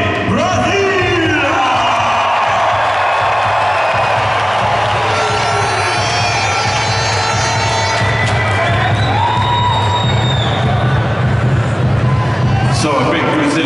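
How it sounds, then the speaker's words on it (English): A big Brazilian crowd at the London 2012 Olympic basketball game between Brazil and Russia cheers and shouts loudly and continuously in a large arena, a roaring mass of voices with whistles rising above it. "So a big Brazilian crowd here today"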